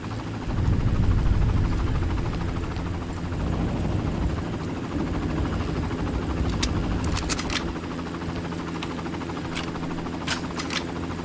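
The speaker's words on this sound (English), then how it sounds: "Yeah, that's that helicopter." A helicopter in the Far Cry video game drones with a steady, heavy rotor rumble that stays loud and close throughout, with a few brief clicks near the end and no talking.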